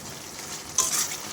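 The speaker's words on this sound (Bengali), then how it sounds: "আমি মশলাটা আরেকটু কষিয়ে নেব" Spice masala with salt and turmeric frying alongside prawns in a pan, a soft continuous sizzle that swells briefly midway, close but fairly quiet with no talking.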